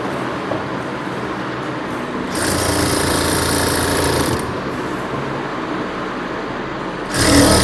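A sewing machine stitching a seam on fabric for Patiala pajamas makes loud, close, continuous rattling runs, stopping and restarting in bursts.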